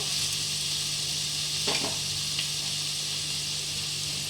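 Dalia (cracked wheat) is stirred and fried in a pan for a pulao, producing a constant soft sizzling hiss with a brief scraping stroke of the spoon midway.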